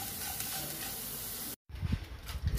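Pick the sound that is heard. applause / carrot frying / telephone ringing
carrot frying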